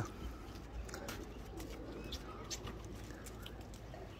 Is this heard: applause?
no